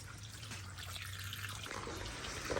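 Coolant pours into a 1990 Mazda Miata during a coolant flush, a faint, steady liquid trickle with slight splashing that grows a little louder toward the end, with no talking.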